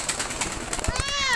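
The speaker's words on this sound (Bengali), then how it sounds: "আমাদের দুইটা সুন্দর পায়রা আছে" A pair of pure white pigeons coo close by, with a soft rustle and people talking over them.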